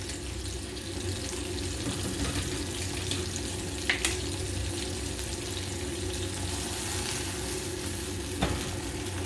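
Onion with ginger-garlic paste fries over high heat in a pan for village-style chicken jalfrezi, a steady moderate sizzle with occasional spoon scrapes and clinks against the pan, no talking.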